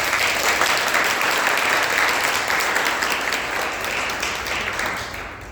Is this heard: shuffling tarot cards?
no